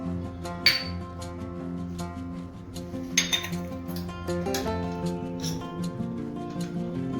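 A spoon stirs garlic, coconut, sesame, onion, crushed peanuts and spice masala in a steel bowl, giving steady scraping and repeated metallic clinks and taps up close, with a ringing resonance.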